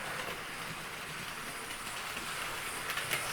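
Model train of the locomotive Tornado running with Mark 1 carriages behind it, giving a steady close rolling rumble and faint rail clatter with no talk.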